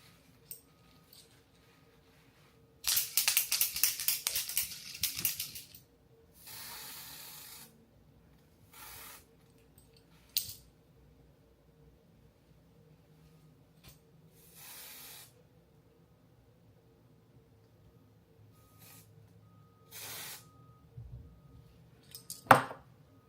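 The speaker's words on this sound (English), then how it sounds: "Let's spray it." A spray bottle mists onto a curly finger-coil wig in short, soft hisses, one long burst followed by several shorter puffs, close and quiet, with small handling clicks in between.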